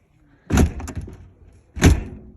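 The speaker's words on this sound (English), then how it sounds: "Doors shut. I'm going to lock it." A vehicle door shuts twice: a solid slam, a lighter follow-up knock, then a second firm slam, each close and loud against near silence.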